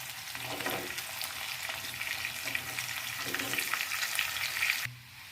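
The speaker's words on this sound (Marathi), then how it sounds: "तर हा कांदा आणि लसूण मी थोडंसं शालो फ्राय करून घेतलेला आहे" Onion and garlic shallow frying on a pan for a tawa pizza, a close, steady crackling sizzle with brief stirring touches, cutting off abruptly at the end.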